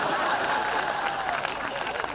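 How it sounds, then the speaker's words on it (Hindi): Brief burst of audience applause at a Hindi hasya vyangya comedy show, a steady dense clapping wash lasting about two seconds with no voices over it. "तालियां कम रह गई थोड़ी सी आपकी।"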